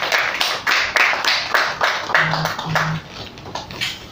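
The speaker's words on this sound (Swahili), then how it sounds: "Makofi kwake tafadhali." A small group claps for someone at a football club player introduction, uneven bursts of hand claps in a loose rhythm, fairly close, with a brief low tone partway through.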